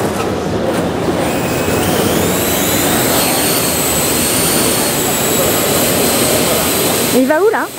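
A Parrot drone running AI person-following software flies close by, producing a loud, steady, whining rotor roar that sweeps in pitch as it moves, with a voice briefly audible under the noise.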